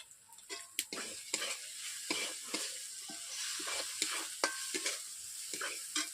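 Ginger garlic paste with turmeric and chili powder frying in a kadai while being stirred, a soft sizzle broken by frequent quick scraping strokes of a spatula against the pan, fairly quiet and close.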